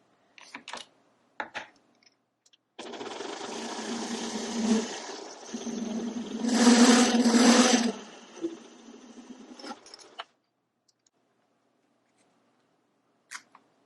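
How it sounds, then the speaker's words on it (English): A lathe parting tool squares a shoulder on a metal part for a 1959 Harley-Davidson XLH, a continuous scraping cut lasting about seven seconds that swells louder midway, with a few scattered clicks before and after. "I'm going to come in with the parting tool and square this shoulder off."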